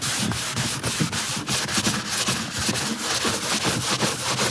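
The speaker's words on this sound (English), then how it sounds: "I'm polishing the second coat" Steady, continuous rubbing as a second coat of finish is polished on a painting, close and moderately loud with a fast back-and-forth scrubbing rhythm throughout, no voices.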